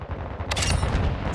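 Gunfire in a Call of Duty: Modern Warfare II team deathmatch, a loud, close burst of rapid shots rattling over a low rumble for about a second.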